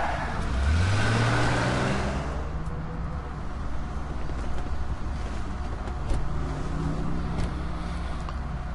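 A car engine driving in the video game GTA 5 Online, a loud steady motor drone with rising revs as it accelerates, continuous and close throughout.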